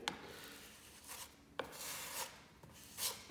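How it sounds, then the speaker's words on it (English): Putty knife stroked across wood filler, pushing it into a gap on a wooden banister room divider; a few soft, close scraping rubs with sharp clicks between, quiet and without speech. "So we get some on our putty knife here. And we're going to stroke it across,"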